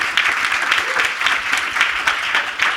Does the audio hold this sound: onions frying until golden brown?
no